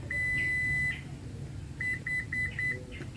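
A Toyota Innova Zenix power tailgate gives a long electronic beep during setup, a pause, then four short beeps in quick succession over a low background hum.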